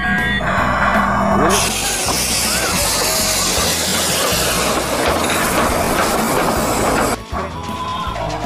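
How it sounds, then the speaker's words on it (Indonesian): A toy train clatters along close by on a toy vehicle set, a steady rattling, clicking mechanical rumble that runs for several seconds before easing off. "Wah, ada kereta api teman-teman."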